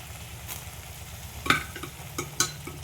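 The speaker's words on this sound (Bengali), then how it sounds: "আগে মাংসগুলো দিয়ে কষিয়ে নেব ভালো করে" Spiced masala with boiled mutton frying in a pan, a low steady sizzle broken by a few sharp scrapes and clinks of a spoon stirring, close and fairly quiet.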